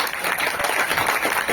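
An audience at a poetry session claps in a brief, dense burst of applause, close and fairly loud, with no speech over it.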